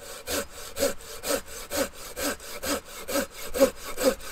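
A Silky Outback series handsaw cutting through wood in steady back-and-forth strokes, about nine rasping pulls, close and clear with no voices.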